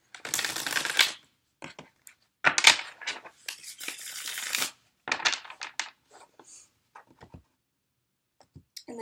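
A traditional Rider-Waite tarot card deck being shuffled and cut by hand: bursts of crisp riffling card noise, then a few short taps and slides of cards, close and alone with quiet pauses between.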